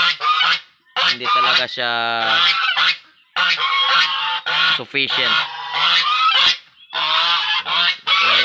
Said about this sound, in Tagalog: Ayan yung gansa natin.